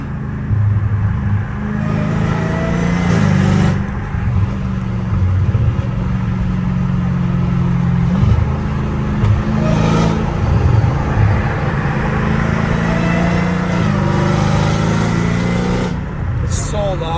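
Catless Dodge Hellcat Redeye exhaust droning loud and steady on a highway, a constant engine rumble with traffic around it, while people talk over it throughout.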